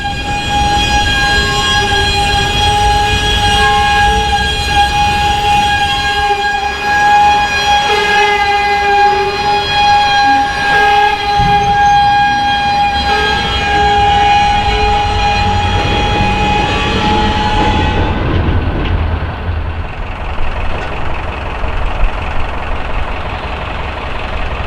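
A loud freight train rumbles past with a sustained metallic screech of wheels on rails, the squealing fading away near the end.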